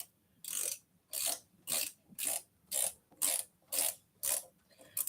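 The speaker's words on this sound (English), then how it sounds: "the way to put this faceplate on is to use a torque" A wrench ratchets in nine or so even, rapid clicking strokes, close and crisp, while a faceplate is tightened on an electric bike.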